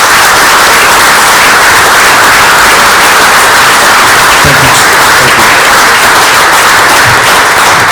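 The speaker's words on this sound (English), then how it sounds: "Let's give the chief and the police department a big round of applause" A city council meeting audience gives the police chief and department a loud, sustained round of applause, dense clapping filling the room for the whole stretch.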